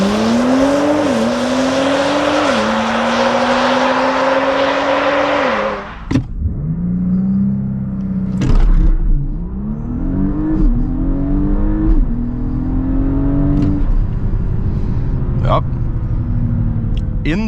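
An Audi S5 (2026 update) engine revs hard under full acceleration from 0-100 km/h in Dynamic+ mode, uphill in the wet, pitch climbing and dropping through several gear changes, then easing into a lower drone with brief clicks.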